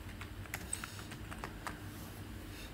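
Someone types the cargo build command for a Rust project on a computer keyboard: a quick, close run of light key clicks with a few sharper taps, steady and unaccompanied by speech.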